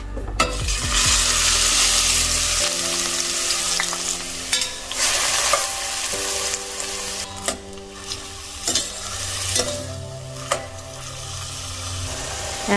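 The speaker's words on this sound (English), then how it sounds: "After sizzling, add 1 cup chopped onion." Chopped onion sizzles and crackles in hot oil with spices while a spoon scrapes and stirs the cooking pan, with intermittent clinks throughout.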